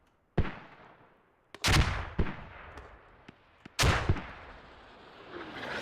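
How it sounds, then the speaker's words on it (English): Mortar rounds landing in the military shooter game Squad during a competitive match, several distant booming impacts spaced a second or so apart, each with a rumbling decay, with no talk. "And here comes some mortars."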